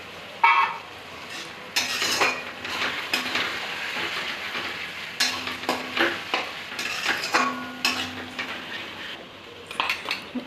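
Chopped tomato goes into a pan of frying onion, ginger and garlic paste: close scraping and stirring with a utensil against the pan and a soft sizzle underneath, in irregular bursts with short pauses, no talking.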